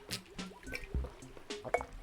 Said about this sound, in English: Oh, spilt some water on myself.